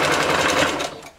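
A home sewing machine stitches across a bulky side seam on a bodysuit, a close continuous whirring hum that slows and fades out at the end.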